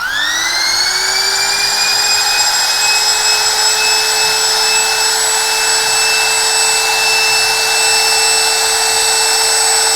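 A Dongcheng DMP02-6 trimmer router runs free at 26,000 RPM, a loud, steady, high-pitched whine that spins up at the start and then holds constant throughout, close by with no speech.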